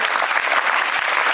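Loud, dense applause from a crowd gathered for a school cultural program, continuous clapping close and full throughout.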